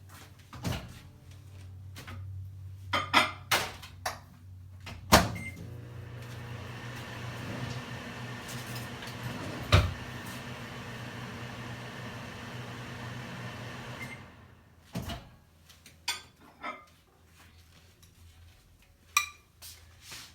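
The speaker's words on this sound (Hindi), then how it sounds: "इसको मैं 10 सेकेंड्स के डिफरेंस पे माइक्रोवेव करूँगी, ताकि ये जेलेटिन और वाटर मिक्स हो जाए आपस में।" A microwave oven hums steadily while heating soaked gelatin and water, bracketed by clicks, beeps and door thuds as it starts and stops, with quiet clatter around it.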